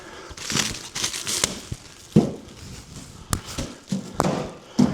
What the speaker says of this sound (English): you just rip it like that